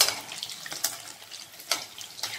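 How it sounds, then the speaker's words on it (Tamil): Squid pieces for squid 65 crackle and sizzle while deep frying in hot oil, a steady close hiss broken by repeated sharp pops, with no talking. "உங்களுக்கு நல்ல சவுண்ட் கேட்கும் பாருங்க. உள்ள எண்ணெய் வந்து நல்லா வந்து வெடிக்குது."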